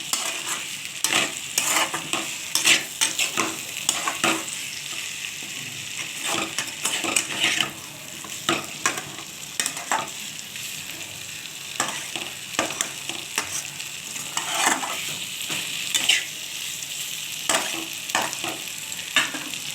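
Chicken with small whole potatoes is stir-fried in a pan for chicken kosha with poppy seed, repeated close spatula scrapes and clinks over a constant sizzle, with no talk.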